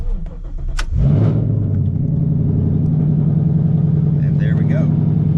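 A straight-piped car with no catalytic converters cranks over and fires up after about a second, settling into a loud, steady, raspy idle with slight revs close by. No voices cut in.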